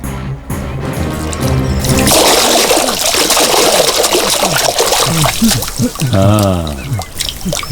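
Water is poured over sleeping men, a loud gushing splash and trickle that starts abruptly and spills on for several seconds, with brief voices and grunts mixed in near the end.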